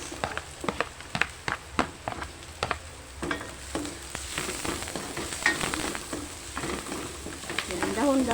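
Garlic and onion sauté in a pan, sizzling steadily while a spatula taps and scrapes in quick, uneven strokes, with faint talk in the background.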